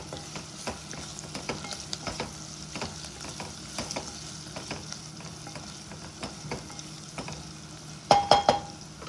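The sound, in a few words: onions frying in a pan with turmeric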